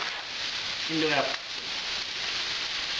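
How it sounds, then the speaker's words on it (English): Steak browns in a hot pan with a steady, even sizzle that runs throughout, while a voice is heard briefly near the middle. "we just want to brown off the steak"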